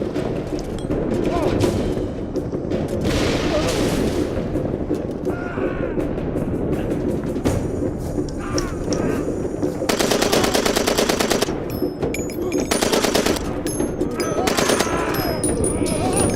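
The player's gun firing in Far Cry 2, loud bursts of automatic gunfire and booming shots that come in dense stretches, with heavy wind-like rumble and game noise throughout.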